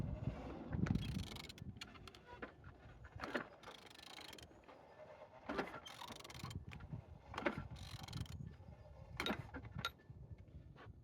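Aircraft engine CX61UFW (1N279) being turned over by hand during inspection, giving a string of soft mechanical clicks and ratcheting knocks at an uneven pace, close by with no talking.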